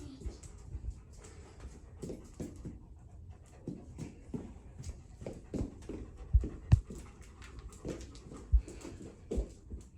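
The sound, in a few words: livestock guardian dog panting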